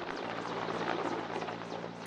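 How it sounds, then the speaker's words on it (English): Big Russian Mil-8 helicopter lifting a load of a little over four tons near mountains, a steady loud rotor thrum and engine roar filling the whole stretch without pause. "In ideal conditions, the big Russian Mil-8 helicopter can lift 5."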